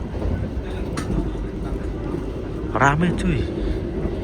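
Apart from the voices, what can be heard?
passenger train riding on rails, Gajayana train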